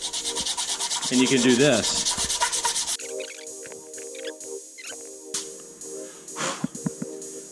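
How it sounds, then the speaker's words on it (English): A fishing jig prototype scraped back and forth across sandpaper laid flat, giving about three seconds of loud, steady rasping strokes, then lighter scratchy rubbing and a few brief scrapes while someone speaks. "you can always lay a piece of sandpaper down. Like the belt sander, it's flat."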